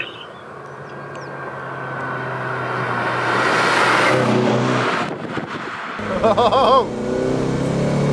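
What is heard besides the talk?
Mazda MX-5 engine revving during drift drive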